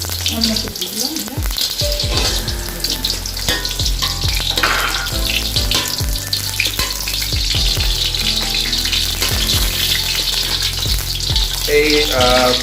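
Potatoes and vegetables frying in ghee in a home kitchen, a loud, continuous sizzle with repeated scraping and stirring strokes of a spatula against the pan throughout.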